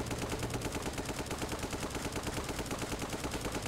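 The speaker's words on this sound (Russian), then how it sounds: "Мне интересно, куда он стреляет." Fast, continuous machine-gun fire during a LEGO City police chase rattles in an even rhythm for the whole stretch, fairly quiet and without pauses.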